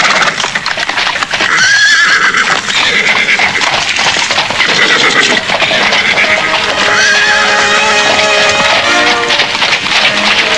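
Horses pulling a carriage procession neigh and whinny repeatedly while hooves clip-clop, set in a Javanese historical drama among a dense, loud, continuous mix of background sound.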